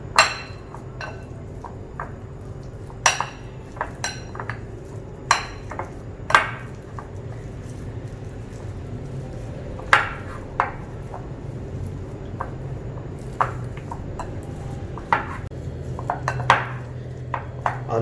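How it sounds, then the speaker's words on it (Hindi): Boiled potatoes mashed in a bowl for cheese-stuffed potato balls, with sharp intermittent clinks and knocks of a utensil against the bowl at an irregular pace, close and fairly quiet, no talking. "आलूओं को सबसे पहले हम मैश कर लेंगे अच्छी तरह से"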